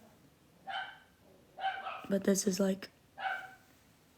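Dogs barking indoors in three separate short bursts, the middle burst longer with several quick barks, fairly close, and a person speaks briefly between them.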